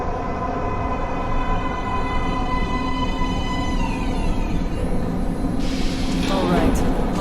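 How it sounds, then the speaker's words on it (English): A metro train pulling into an underground station in the game Metro Last Light, a loud, steady rumble with tonal whines that bend and shift, and a screeching, hissing burst as it nears the end. "Train coming in."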